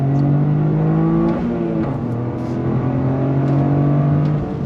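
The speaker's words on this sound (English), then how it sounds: "we're gonna see once again how this GR Corolla holds up against the Integra Type S second gear on throttle" Toyota GR Corolla hot hatch accelerating hard on throttle in second gear, a loud, steady engine note climbing in pitch close by, with a brief dip as revs settle before rising again.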